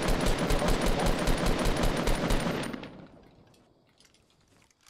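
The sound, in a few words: RPG rocket shot in a video game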